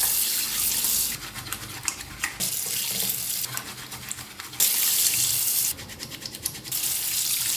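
A tap runs while brushes are washed at a bathroom sink, steady close water splashing with bursts of louder scrubbing and rinsing.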